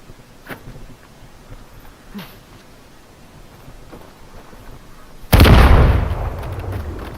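A dynamite blast in the Uncharted video game goes off as one sudden, loud, broadband explosion that lingers in a rumbling decay, following several seconds of quiet ambient noise with faint scattered thuds.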